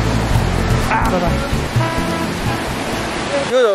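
Steady broadband rush of the Mohini waterfall in Nepal, loud and continuous close by, with voices talking briefly over the roar and a dog-like bark or cry near the end.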